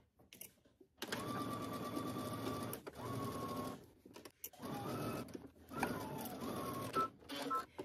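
A sewing machine stitches a side seam with a 5/8-inch seam allowance, running in three separate bursts of rapid mechanical whirring with short pauses between them, close and clear.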